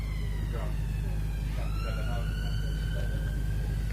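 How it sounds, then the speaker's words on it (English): A loud emergency siren wails and sweeps near a county cricket ground during a Lancashire versus Essex championship match, rising and falling steadily under a low broadcast hum and background ambience. "It's a loud siren, isn't it?"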